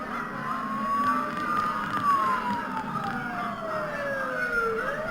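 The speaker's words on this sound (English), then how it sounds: "Don't those sirens sound really close?" Police sirens wail in the Persona 4 video game, a single rising and falling electronic tone sweeping slowly over a low background, fairly loud and uninterrupted.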